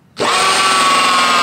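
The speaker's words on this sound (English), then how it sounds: "I think my drill's dying." A battery power drill suddenly starts up and bores a hole for a fan in a homemade mushroom humidifier, holding a loud, steady whine close by after a sharp onset.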